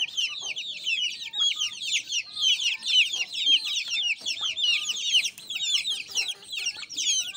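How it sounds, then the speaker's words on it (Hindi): Aseel chickens and their chicks make busy, high-pitched peeping and clucking close by, with overlapping chirps running continuously and no talk. "प्यारे प्यारे मुर्गियों की और चूजों की है।"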